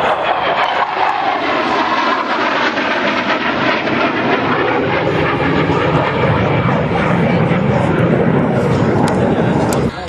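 An F-16 Fighting Falcon fighter jet flies at the Red Bull Airpower 2009 air show in Zeltweg, a loud, sustained roaring engine rumble that dominates throughout, with a commentator's voice faintly underneath.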